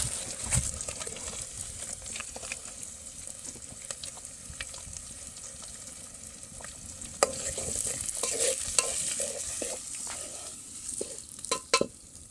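Onions and ginger-garlic paste sizzle in a cumin tempering for chicken curry, a steady close frying hiss with occasional stirring scrapes and clatters.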